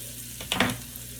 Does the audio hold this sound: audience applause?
no